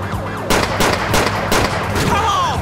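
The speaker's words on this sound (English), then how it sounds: "Still continuing to shoot." Gunshots in GTA IV with the LCPDFR police mod during a multiplayer chase, several loud irregular shots over a low engine and traffic rumble.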